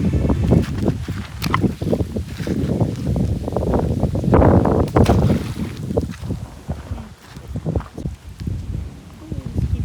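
Strong wind roars and buffets in low rumbling gusts close to the microphone at an outdoor family campsite where a tent is being pitched, with faint voices underneath.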